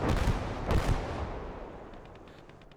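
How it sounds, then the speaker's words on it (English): A rocket artillery strike lands in Gates of Hell, a World War II strategy game. Several heavy blasts crack close together at the start, then rumble and fade into a long, dying echo. "And we get an additional hit from rocket artillery."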